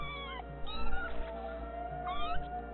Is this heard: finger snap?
no